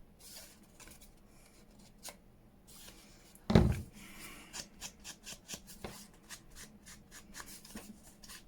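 Scissors trim around paper for a junk journal cover decorated with a bird and botanical pieces, making a run of soft, close snipping and rustling cuts with one sharper knock partway through.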